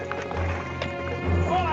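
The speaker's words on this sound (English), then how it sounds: "Two men on horses." Horses running with a steady clip-clop of hooves in an old 1959 western scene, heard over a continuous background music bed.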